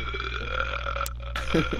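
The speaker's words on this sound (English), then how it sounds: "start burping" Cows in the Farming Simulator video game burp, one low, rough belch standing out near the end over a steady droning game background.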